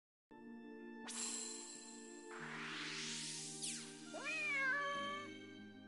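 A cat character in the Granblue Fantasy video game meows once, a bright, clear call that rises over layered synthetic game music and chimes.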